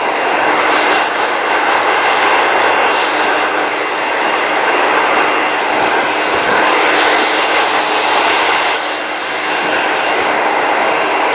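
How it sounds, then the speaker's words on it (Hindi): A hair dryer on its cold setting blows a steady, loud, broadband whoosh close by during a salon blow-dry, with small shifts as it is moved and no talk heard. "ठंडा ड्रायर, हाँ कोल्ड ड्रायर हम यूज़ कर रहे हैं"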